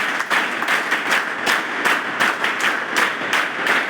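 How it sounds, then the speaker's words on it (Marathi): A large audience claps steadily together at a school gathering in Gadchiroli, dense sustained applause with a loosely rhythmic pulse, close and loud with no talking. "आमचे बाळासाहेब ठाकरे या ठिकाणी आले"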